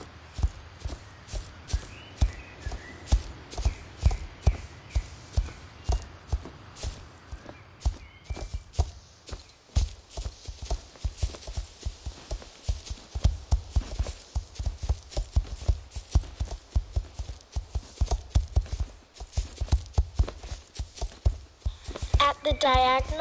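A horse's hooves beat a steady, rhythmic canter on an arena surface during a dressage test, the footfalls continuous and close throughout, with a faint voice near the end.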